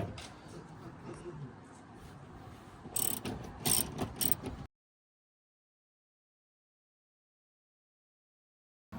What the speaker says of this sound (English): I'm gonna take off these rear bolts first in the back.